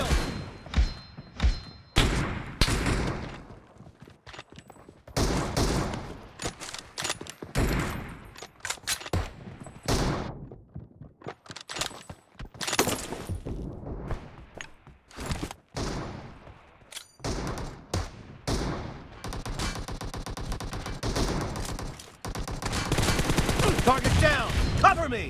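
Gunfire in PUBG gameplay on a Narzo 20 phone: repeated bursts of automatic fire and single shots with thuds, in irregular clusters separated by short lulls, loud and close throughout.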